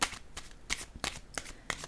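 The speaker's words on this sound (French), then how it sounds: "Je vais déposer une carte sur l'enfant." Tarot or reading cards slapped and slid onto a tabletop during a card reading, several quick soft papery impacts in an irregular rhythm, close and quiet with no talk.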